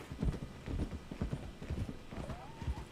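Horse hooves clip-clop steadily in Red Dead Redemption 2, a continuous rhythmic trotting over a busy, noisy game soundscape, with a faint rising whinny-like tone near the end.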